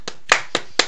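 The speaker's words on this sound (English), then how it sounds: "round of applause" A few sharp claps from a small group, three or four quick bursts spaced apart, close and fairly loud, without talk.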